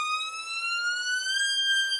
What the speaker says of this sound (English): I start the siren immediately as I change my bow